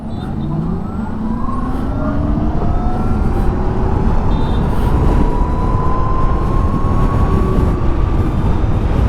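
An Oben Rorr electric motorcycle accelerates hard in havoc mode, a rising motor whine climbing steadily in pitch over heavy, continuous wind rush, loud and close throughout.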